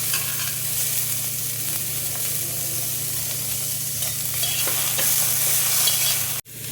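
Chopped onion sizzles with cumin seeds in a kadai: a loud, steady frying crackle close by, briefly cut off by a sharp knock near the end, with no talking.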